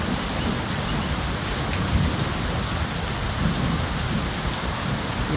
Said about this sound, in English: And there's rain getting all up on the engine.